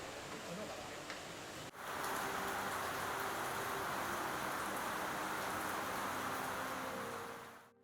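Steady rain hisses down at a forest lodge in Borneo, starting suddenly and holding an even, dense patter throughout, faint and with no other sounds.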